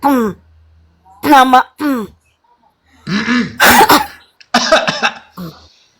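Harsh, close coughing and throat clearing break up a conversation, with people talking before and between the coughs.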